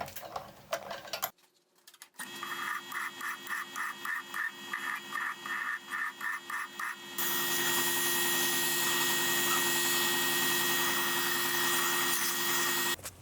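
An M10 thread being cut on one end of a reclaimed rebar rod, starting with a brief pause and then a regular pulsing mechanical churn that turns into a steady loud motor whine, close by and without voices.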